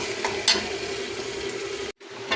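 Pieces of meat (gosht) frying in a pan until light brown, giving a continuous close sizzling hiss with a brief stirring scrape, then a short sudden dropout of sound before the frying resumes; no voices.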